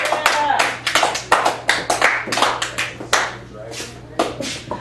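Small audience at a poetry open mic in a Chicago café gallery clapping for a reader, sparse individual hand claps close by in a loose irregular rhythm, with some voices underneath.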